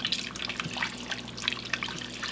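Hot lemon mixture poured into an egg yolk mixture for lemon meringue muffins, heard as a run of soft liquid drips and trickling splashes, fairly close, with a faint steady hum beneath.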